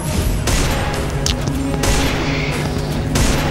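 Gunfire in the Free Fire game lands headshots in heavy, dense bursts, loud and close, with booming impacts running continuously through the whole stretch.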